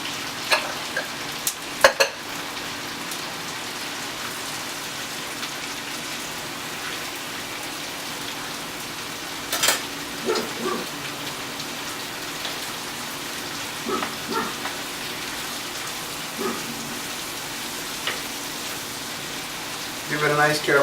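Onions and carrots drop into a pan of seared lamb for Uzbek plov, setting off a steady, rain-like frying sizzle broken by a few sharp clinks and sputters.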